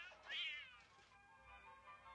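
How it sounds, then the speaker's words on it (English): A cat meows off screen in a 1971 film scene, a single drawn-out, rising and falling cry followed by fainter, quieter wailing in an otherwise hushed room. "Notice that the cat is really off frame, and we hear it reacting as if it's being hit by the fruit."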